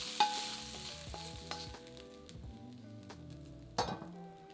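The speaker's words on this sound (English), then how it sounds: "Cook the steak for about 2 to 3 minutes until nicely browned" Beef steak frying in a hot wok, a continuous soft sizzle broken by several sharp clacks and scrapes of a utensil stirring against the metal, no talking.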